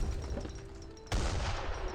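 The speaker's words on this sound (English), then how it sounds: "mortars, getting some good damage there." Mortar artillery firing in Age of Empires 3 during an Ottoman versus Dutch match, a dense rumbling volley of booming blasts that grows sharply louder partway through and then continues as steady, crowded battle noise.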